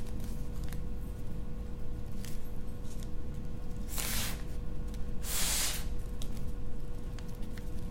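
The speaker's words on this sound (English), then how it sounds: "What we're actually going to do is kind of just blow it up like a regular balloon." Air is blown into an origami paper balloon in two short, breathy puffs a second or so apart, each a soft rushing hiss over a quiet, humming background.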